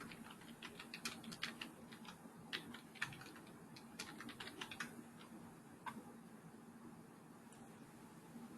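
Keys on a computer keyboard tapped in quick irregular bursts, faint and close, over a steady low hum with no voice.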